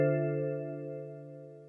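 A Yamaha TX802 synthesizer sounds a Glass City patch as one sustained bell-like tone, clean and alone, slowly fading over under two seconds.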